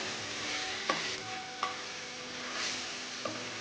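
Thin chicken strips roast in a hot pan, a soft steady sizzle punctuated by three clear spatula knocks against the pan.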